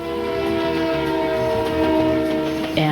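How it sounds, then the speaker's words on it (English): A train sounds loud and sustained with a horn-like harmonic tone that shifts in pitch near the end, suggesting it passing by, heard without talk. "when they hear a train approaching and then receding, the sound will change in pitch"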